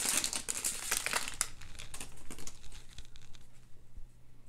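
Crinkly wrapper of a 2020 Bowman Draft baseball card pack being torn open and handled, dense bursts of crackling up close for the first second and a half, then quieter rustling.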